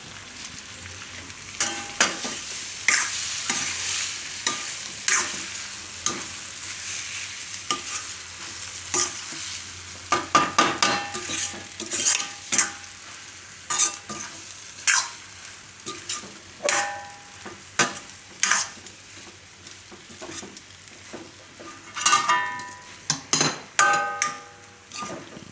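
Soaked puffed rice and potatoes are stirred in a pan for a Gujarati mamra bateta snack, giving repeated close scraping strokes over a faint sizzle, with sharper, louder stirs near the end and no talking.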